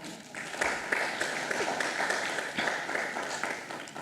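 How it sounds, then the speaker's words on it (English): An audience claps for a row of people at a gender network summer school session on Korčula, giving a steady, moderately distant patter of many hands with no words over it. "let's have a clap hands for all those"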